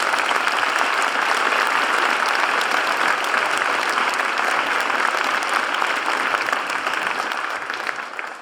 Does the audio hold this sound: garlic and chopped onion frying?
no